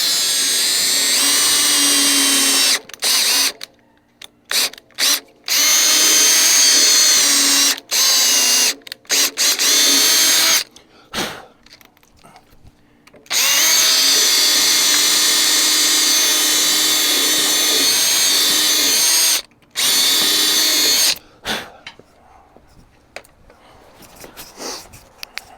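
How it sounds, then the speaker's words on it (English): A power drill boring a hole into a Freightliner FLD fuel tank part, whining in long loud bursts broken by short pauses and starts, close up and with no talk. "so we drilled a hole in there"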